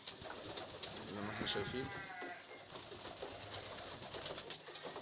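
Pigeons coo softly in a repeated, warbling pattern close by, while someone talks over them throughout.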